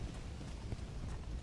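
Horse hooves clip-clop in a cowboy video game, a steady, low rhythm of thudding steps that carries on through the whole short stretch at moderate loudness.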